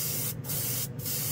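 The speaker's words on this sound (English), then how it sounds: "Seems to atomize the paint pretty good." A Harbor Freight Avanti airbrush at 20 PSI sprays Tamiya paint in a steady hiss, briefly interrupted twice by short pauses of the trigger.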